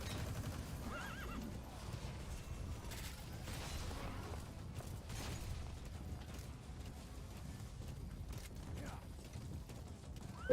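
A horse whinnies and its hooves clop in Metal Gear Solid V: The Phantom Pain, set against a dense, steady game soundscape with faint mechanical noise underneath.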